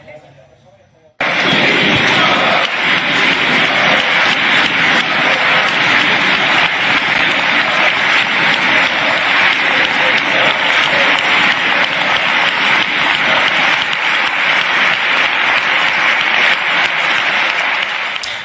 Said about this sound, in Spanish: fue homenajeado con una intensa ovación por los diputados del PSOE y de Podemos